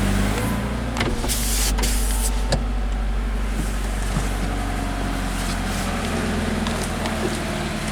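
Power windows of a 2014 Scion FR-S Monogram Series motor up or down, a steady electric whir close by, with a couple of sharp clicks near the start.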